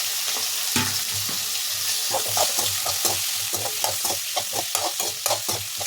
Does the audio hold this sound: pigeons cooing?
no